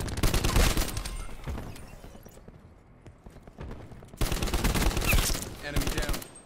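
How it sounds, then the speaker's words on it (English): Gunfire from an enemy sniper in a first-person shooter video game, loud bursts of rapid shots at the start, a quieter lull, then heavy firing again at the end. "Enemy sniper working."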